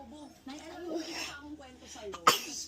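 A single sharp sneeze near the end of a short stretch of indoor talk and baby-related chatter, loud and close, bursting out after the voices.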